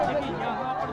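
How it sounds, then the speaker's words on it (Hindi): A crowd bustles outside amid a political commotion, a continuous babble of many overlapping voices shouting and chattering, loud and close with no pauses. "हंगामा, भीड़,"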